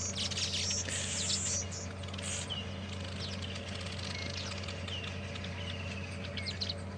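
Weaver birds calling around their nests on a morning safari drive at Djuma and Arathusa, with a busy, steady chatter of chirps and tweets over a constant low hum.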